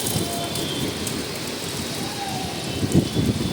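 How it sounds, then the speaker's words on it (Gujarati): Steady patter of light rain falling in Morbi, a continuous soft hiss with scattered drops throughout. "ઝીણો ઝીણો વરસાદ હાલ મોરબી શહેરમાં વરસી રહ્યો છે"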